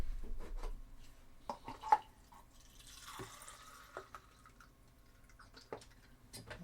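Demineralized water trickles and drips while a steamer is filled, soft irregular splashes and pours with a few sharper plinks and a brief gurgle, quiet and close with no voices.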